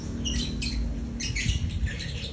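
Pet birds in a nest enclosure chirp and squawk in several short, bright bursts close by, over a low background rumble with no talk.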